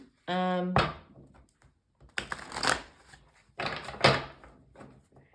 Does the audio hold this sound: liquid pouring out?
no